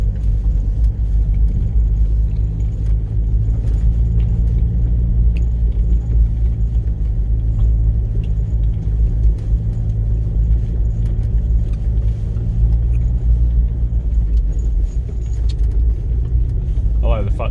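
A Land Rover Freelander Td4 creeps along a long Derbyshire lane at walking pace, its diesel engine a steady low rumble with cabin jostling and light rattles, heard close from inside the vehicle.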